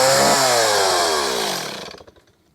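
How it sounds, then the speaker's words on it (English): A chainsaw on a farm in Portugal revving loudly nearby, its engine whine holding steady and then winding down and sputtering to a stop. "that's an awesome chainsaw, huh?"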